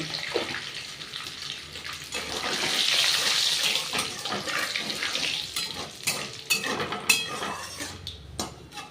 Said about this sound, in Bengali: তেলটা গরম হয়ে গেছে দিয়ে দিলাম শুকনো লঙ্কা তেজপাতা